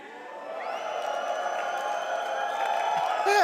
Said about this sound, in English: Can we get a cheer for the stage?